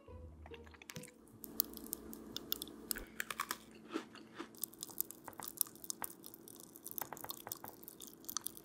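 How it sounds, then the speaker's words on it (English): An Oreo cookie with popping candy is bitten and chewed close to the mic, making crisp crunches followed by a run of tiny sharp crackles and pops, quiet and intimate, with no talking. "when you bite into the full cookie, that's when you hear most of the popping candy"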